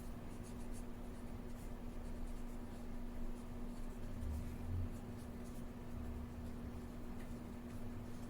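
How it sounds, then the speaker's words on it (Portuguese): Chalk or marker writing on a board during a Portuguese-language mathematics lesson on irrational numbers, a steady continuous scratching over a constant low electrical hum, no talking. "Vou escrever aqui para vocês."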